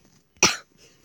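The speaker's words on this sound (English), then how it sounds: "I just coughed the whole time" A single sharp cough from a person, close and loud, with near silence before and after.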